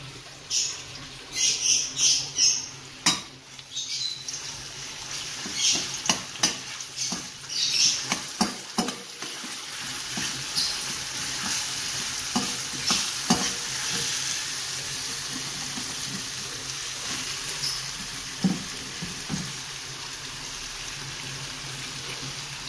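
Ground spice paste sautés with lemongrass, bay leaves, lime leaves and galangal for Cirebon-style sambal goreng, a steady sizzle with bursts of crackling and scraping stirs, loudest early on.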